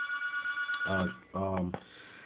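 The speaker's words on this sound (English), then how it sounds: "Please excuse and ignore the phone, as I'm trying to do too." A telephone rings indoors with two short trilling bursts in quick succession, fairly close and moderately loud, with a person talking around it.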